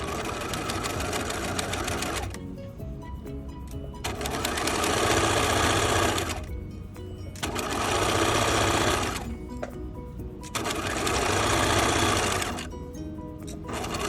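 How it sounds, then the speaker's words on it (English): A sewing machine stitches a standard seam on a blouse or dress, running in three loud, rapid whirring bursts separated by short pauses. "And sew all the way to the end and backstitch."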